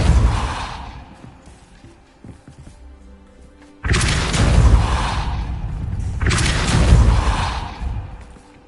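Magic spells cast in Hogwarts Legacy produce two loud, sudden whooshing bursts with booming impact, each lasting about two seconds, following a quieter stretch of faint ambient game sound.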